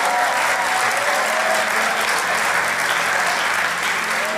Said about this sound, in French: Je veux qu'on les applaudisse ensemble.